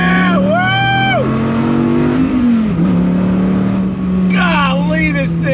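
A Dodge Viper ACR engine revs hard as it pulls through second gear, loud and close with rising and falling pitch, while an excited voice talks and whoops over it.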